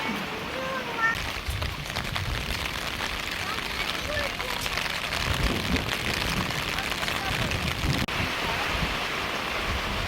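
Strong wind and heavy rain batter a campsite tent by a riverside, a continuous rushing roar with spattering drops that keeps going throughout, while voices talk faintly underneath.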